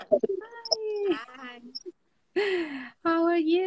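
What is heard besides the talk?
cat meowing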